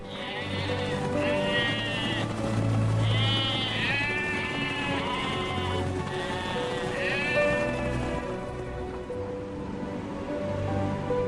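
A large flock of sheep bleats repeatedly and overlapping, close and loud, during a herders' winter migration in the Tian Shan of Xinjiang, with a steady low rumble beneath the calls throughout.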